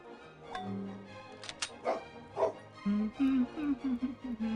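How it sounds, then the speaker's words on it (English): A dog barks and yips a few times close by, short sharp bursts over a low background hum, with a brief whimpering note in between. "Bark, bark. I hear it."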